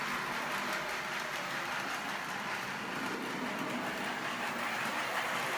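Model train pulling three coaches up a 4% incline, a steady close rolling rumble with faint rhythmic clatter throughout, no voices.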